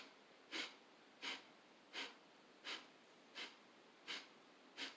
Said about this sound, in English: Kapalabhati, that is breathing with slight friction and speedily